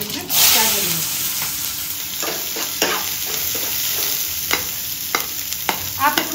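Mustard seeds, chopped onion and green chili hitting hot oil in a pan, a steady close sizzle with a burst at the start and scattered crackles and stirring scrapes throughout.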